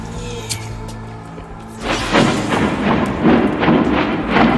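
Rumbling booms and crackling blasts from the video game The Forest swell after a quieter start and keep rolling in overlapping waves.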